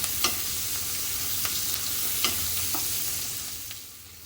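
Onion sautéing in a pan for a traditional cluster bean and pumpkin bhaji gives a continuous moderate sizzle, broken by occasional sharp taps and scrapes of a spoon stirring.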